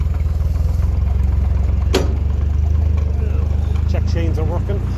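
A Ferguson 35 tractor idles nearby with a steady, loud, low diesel rumble that holds unbroken throughout, joined by a sharp knock and faint voices near the end.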